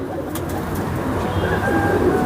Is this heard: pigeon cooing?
yes